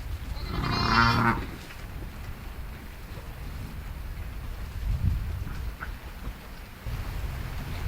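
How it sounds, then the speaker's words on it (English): On a farm during lambing season, a sheep or lamb gives one clear bleat near the start. After it comes a steady wash of outdoor noise like rain, with a faint, lower call later on. "Mother and lamb recognize each other by their bleats."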